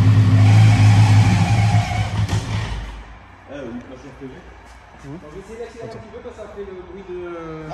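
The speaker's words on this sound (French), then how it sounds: "Si t'accélères un peu, ça change quelque chose ou pas? Faut que j'accélère là? Ouais, accélère un peu." A Peugeot 205 engine is revved loud and close with the accelerator pressed for about two seconds, then drops back to a rough idle while people talk over it.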